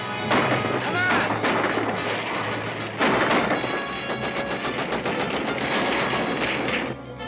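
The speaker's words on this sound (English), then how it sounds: "Gunfire" Heavy gunfire and explosive blasts rage continuously in a dense, chaotic battle din, loud and close throughout.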